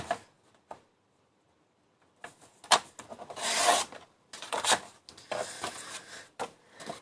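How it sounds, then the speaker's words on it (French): Paper being cut to size for a handmade mini album, close scattered rasps and rubbing with short bursts of sliding and scraping separated by quiet gaps. "Donc je vais couper à 13 cm de hauteur."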